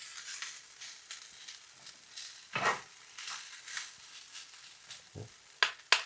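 Rice frying in oil in a pan for restaurant-style fried rice, a soft hiss with intermittent stirring scrapes and a few sharp clinks, close but fairly quiet, no talking.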